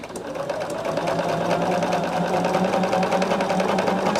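A sewing machine stitches a quilt block with a steady, close, continuous mechanical whir. The rhythmic needle hum stays even throughout, with no voices heard.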